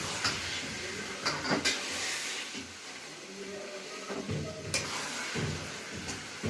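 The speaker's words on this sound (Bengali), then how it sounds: "এবার চিকেনগুলো মা আস্তে আস্তে দিয়ে দিচ্ছে কড়াইতে।" Chicken goes into spiced masala in a wok, producing a steady hiss and sizzle with a few louder scraping bursts as pieces are added and stirred.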